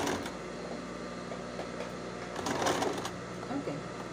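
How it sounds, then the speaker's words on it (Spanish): A sewing machine stitches leggings fabric, a steady mechanical whirring run that swells briefly midway, with faint background noise throughout. "clavo la aguja y vamos a comenzar a coser."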